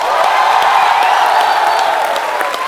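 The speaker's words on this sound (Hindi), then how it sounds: "आप सबकी जोरदार तालियों के बीच स्वागत करना चाहूंगा फिल्म बेगम जान की टीम" A studio audience on a Hindi comedy talk show breaks into loud, sustained applause and cheering to welcome a film team, steady dense clapping filling the whole stretch without a pause.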